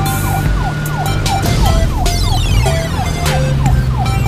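Blue police car siren from a children's cartoon, a loud wailing electronic siren with repeating up-and-down sweeps and layered horn tones, steady and close.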